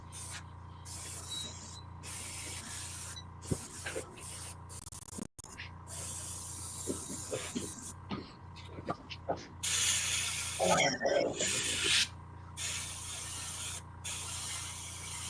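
Spray paint hisses in bursts while a figure is painted, with brief pauses between passes and a louder, denser burst near the end, set against steady background noise.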